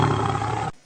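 A tiger gives one loud, close roar that fills the moment and then cuts off abruptly.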